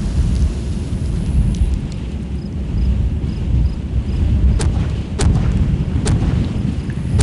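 Distant artillery shells from an ARMA 3 artillery barrage rumble as a continuous low roar, with a few sharp cracking impacts cutting through near the end.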